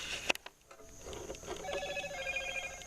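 A mobile phone rings faintly on a job site where rough-cut oak subfloor is being laid for a party tent, a thin repeating electronic tone over low background noise.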